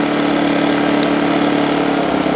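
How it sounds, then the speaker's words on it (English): A portable generator's small engine runs loud and close with a steady, buzzing drone and no breaks in the sound. "I pull the choke out and give it a yank, and perfect, just like clockwork"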